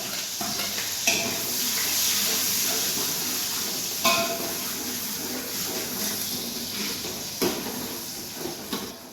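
Two onions dropped into hot ghee for beef nihari sizzle and hiss steadily up close, with a few sharp stirring clatters breaking through the continuous frying.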